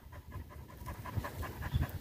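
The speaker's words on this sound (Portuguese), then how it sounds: "E o cachorro tá ali, ó." A hunting dog pants steadily and close by, a quick rhythmic run of breathy huffs with nothing else in the foreground, out on a lizard hunt after the rains.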